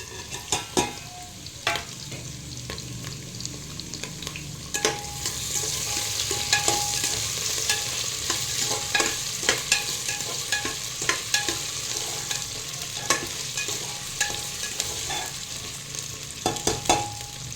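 Potatoes fry in a pan for coconut masala rice while a spoon stirs them, soft continuous sizzling punctuated by repeated sharp scraping clicks against the pan, close and fairly quiet with no talking.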